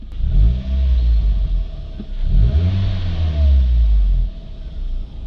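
Manual-transmission supercar engine revving hard, a deep rumbling roar that climbs and falls in two strong bursts, heard loud and close from inside the car with no talking.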